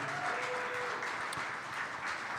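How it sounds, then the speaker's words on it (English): Applause for Packers running back Emanuel Wilson at a live clubhouse show, a steady wash of distant crowd clapping at moderate volume with a faint tone and murmur underneath. "a big round of applause for Emanuel Wilson tonight"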